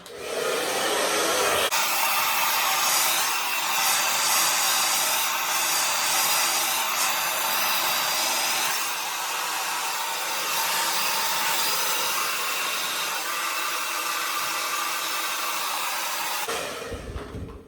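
A hair dryer blowing steadily on natural hair at home, switching on after a short pause and running as a loud, close, continuous whooshing roar that dips slightly in tone midway before cutting off.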